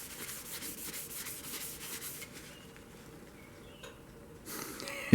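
Carnauba wax and oil are rubbed by hand onto a restored cleaver's wooden handle, making close, soft rhythmic swishing strokes that fade to quieter rubbing, ending in a sharp knock.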